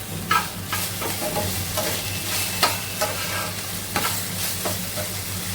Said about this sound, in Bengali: হুম ওই তো ঢেঁড়স ভাজি করতেছি চুলাই দিয়ে দিচ্ছে ঢেঁড়স ভাজি